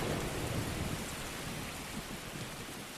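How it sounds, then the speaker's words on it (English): Thunderstorm from an anime scene: steady, loud rain with rumbling thunder underneath, heaviest at the start and easing slightly as it continues, no voices. "Check out that lightning."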